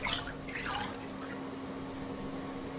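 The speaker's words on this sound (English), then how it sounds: "Afterwards, it's rinsed again." Foil rinsed in a water bath during record making: a steady, close wash of splashing and running water with no voices.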